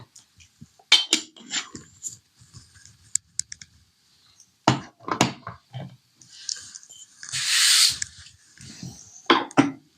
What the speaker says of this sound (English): So let's get them into the portafilter.